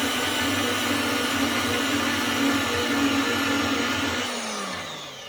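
A VEVOR portable bandsaw runs through a cut with a steady, loud whining drone and a grinding buzz. It holds for about four seconds, then winds down and fades, close by with no talk.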